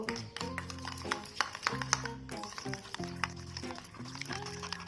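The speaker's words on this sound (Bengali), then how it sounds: "আমি টক দইটা ঢেলে নিয়েছি এবারে এটাকে আমি চামচ দিয়ে ভালো করে ফেটিয়ে নেব" Sour yogurt being beaten with a spoon in a large bowl: quick, close taps and wet slaps of metal against the bowl, repeated in short bursts over a tonal background.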